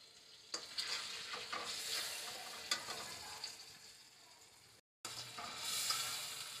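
Finely chopped green chillies sizzle loudly in a pan of masala, with constant stirring scrapes over a bright hiss and a brief drop to silence before the frying resumes.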